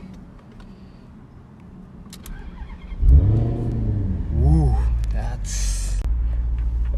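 A Maserati GranTurismo S engine cranks and fires up with a sharp rising roar, then settles into a loud, throaty idle, with a few spoken words over it.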